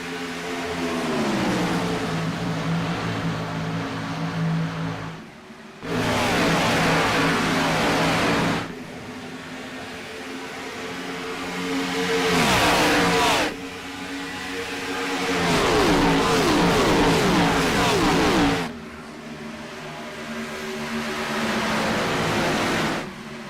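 NASCAR Cup Series race cars roaring around the Texas track, loud engine passes surging and fading in long waves, with sharp drops between bursts and a constant roar beneath.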